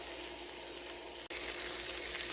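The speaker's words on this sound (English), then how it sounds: "Hear that nice sizzle?" Chicken leg quarters sizzle steadily in a hot pan, a dense, even crackling hiss heard close up and alone, briefly cut by a sharp break before it resumes louder.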